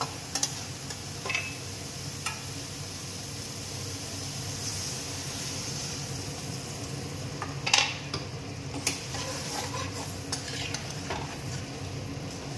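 Aar fish curry cooks in a pan on a low flame after water is added, giving a steady soft bubbling hiss with a few light clinks of a spoon against the pan.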